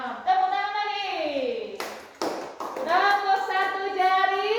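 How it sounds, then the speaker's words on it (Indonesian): A classroom of young students claps on the teacher's cue: a couple of sharp clap bursts break up children's voices chanting together, close and fairly loud. "Tepuk tangan lagi."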